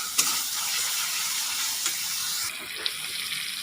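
Cumin powder and spices being stir-fried in oil for a snakehead fish curry, a steady broadband sizzle with faint utensil scrapes, the frying dropping slightly quieter partway through, no voices.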